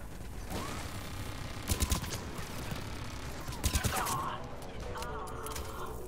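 Deployed turrets in Mass Effect 3 fire two short bursts of rapid mechanical shots amid steady battle ambience, with whirring and ratcheting mechanism sounds and a faint voice in the background.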